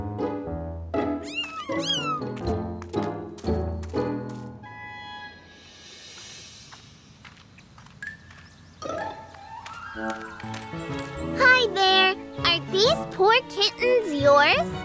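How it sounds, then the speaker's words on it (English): Cartoon kittens meow repeatedly in high, bouncy cries over a jingly, playful children's cartoon score, with a child-like voice talking between the meows. "wouldn't it be great to have a cute kitten like that?"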